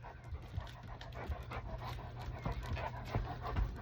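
Dogs panting steadily and close by, a continuous rhythmic breathy huffing with faint low hum underneath and no talk.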